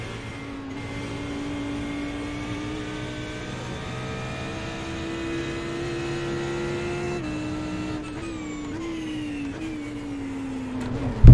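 An Audi GT3 race car engine in a sim racing game drones steadily at high revs with a constant tonal whine. Near the end the pitch dips and wavers as the car slows, ending in a brief loud burst. No one talks.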